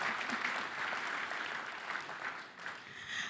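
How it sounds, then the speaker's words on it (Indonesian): An audience applauds at a Jakarta gubernatorial candidate dialog, a steady, even wash of many hands clapping throughout, moderately distant and fairly soft. "Tepuk tangan buat."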